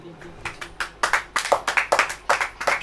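An audience at a Hindi-language church sermon claps hands, scattered at first, then building into a run of sharp, uneven claps close by.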